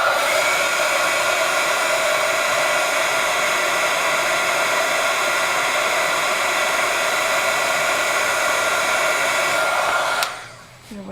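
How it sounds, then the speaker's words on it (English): A craft heat tool blows hot air over a handmade card, a loud steady whooshing roar with a constant whine that holds unbroken for about ten seconds before cutting off abruptly. "I'm just going to hit this with heat tool"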